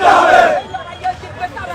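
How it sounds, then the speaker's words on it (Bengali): A crowd chants and shouts BNP political party slogans in a loud massed roar of voices, which fades after about half a second into quieter, scattered crowd noise. "আমরা এই মুহূর্তে দেখছি যে বিএনপির বিভিন্ন স্লোগান দেওয়া হচ্ছে।"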